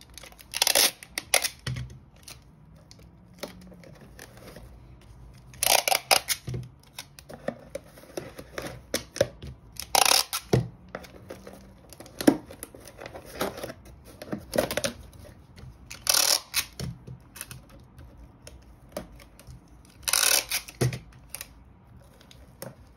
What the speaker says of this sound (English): I'm going to tape it down.